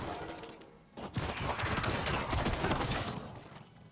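Necromancer corpse explosions in the Diablo 4 video game, a dense burst of crackling blasts and debris that erupts after a second of quiet and rumbles on for a few seconds before tapering off.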